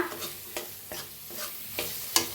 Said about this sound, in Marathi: आता छान मिक्स करून भाजून घेऊया आपण। बघा मस्त भाजायला आला आपला कांदा